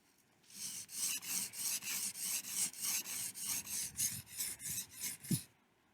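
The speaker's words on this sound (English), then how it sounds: "I've used the 400 grit, and then I flipped it over and used the slightly finer 1000 grit" A knife is sharpened on a 400 and 1000 grit whetstone: a steady run of about a dozen rhythmic, raspy back-and-forth strokes, close and clear with no voices.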